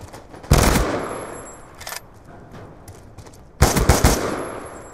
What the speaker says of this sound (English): Oh, that's a single shot gun